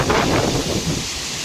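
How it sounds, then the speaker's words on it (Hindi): Gusty wind and rain roar steadily during a dust storm, a loud, broad rush close to the microphone with no talking. "सारे में धूल ही धूल उड़ रही है सारे में, और बारिश भी आ गई है।"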